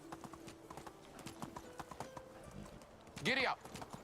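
Horse hooves clip-clopping in a quick galloping rhythm in Medieval Dynasty, close and steady, with a short whinny-like vocal burst near the end.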